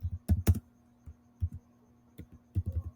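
A computer keyboard clatters in short bursts of keystrokes, close and clear with brief pauses between runs, and no one speaks.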